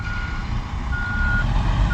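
A concrete mixer truck backs up at a construction site during a concrete pour, its reversing alarm beeping steadily over a loud, heavy diesel rumble.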